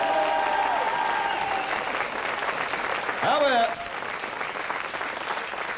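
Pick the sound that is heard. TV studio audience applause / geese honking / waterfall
TV studio audience applause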